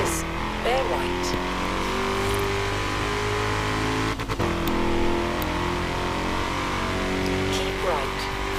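Car engine in the racing game Forza Horizon 3 on Xbox One, a loud steady drone with rising revs and gear shifts, continuous throughout with a voice speaking over it.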